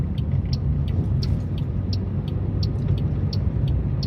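A car drives steadily along a road on a Monday morning, with a constant low engine and road rumble heard from inside and a faint rhythmic ticking above it, and no voices.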